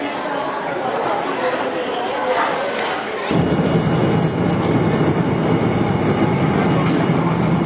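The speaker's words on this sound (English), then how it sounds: "We're on the plane, going to England." Steady airplane cabin noise on a flight to England, a loud broadband roar with a low rumble that steps up partway through, with chatter in the background.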